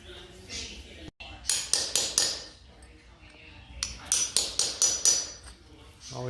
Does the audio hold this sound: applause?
no